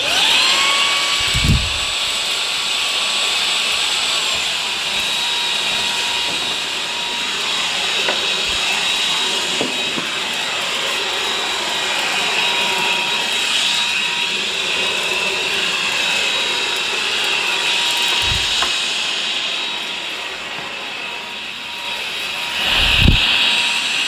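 A Jashen V18 cordless vacuum cleaner fitted with a dusting brush runs steadily and loudly throughout, a high-pitched motor whine with airy suction rush, broken by a few brief low thumps and bumps as the brush knocks against surfaces.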